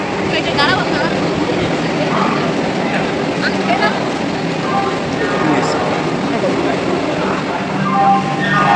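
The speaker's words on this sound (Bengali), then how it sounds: "আমাদের ট্রেন চলে এসেছে বন্দে ভারত প্ল্যাটফর্ম নম্বর 18।" Loud, continuous rumble of a Vande Bharat Express train arriving at a station platform, with a busy station murmur and faint voices mixed into the noise.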